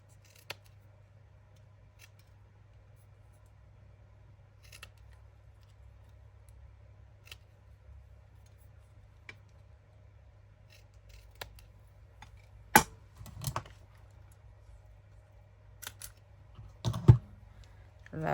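Scissors trimming craft paper in a quiet room, a scattering of soft snips and rustles over a faint hum, building to a few crisper, louder cuts toward the end.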